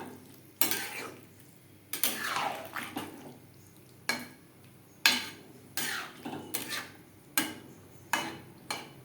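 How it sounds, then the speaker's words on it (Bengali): Potatoes and green jackfruit are stirred into a thin gravy in a pan, giving a series of sharp spoon scrapes and clanks against the metal every second or so over a low simmering sizzle. "গ্রেভির সাথে আলু ও এঁচোড় বেশ ভালো করে মিক্সড করে দেব।"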